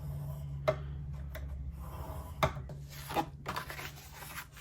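Ivory card base being scored down the center with a scoring tool, giving soft rubbing and scraping strokes punctuated by a few sharp ticks, close and quiet over a low steady hum.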